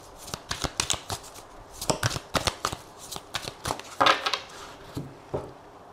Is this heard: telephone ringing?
no